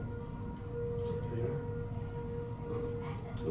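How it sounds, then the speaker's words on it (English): A faint, steady town siren tone, the daily 2 o'clock siren, drones in the distance under quiet background noise, sustained and unwavering throughout. "It's a 2 o'clock siren."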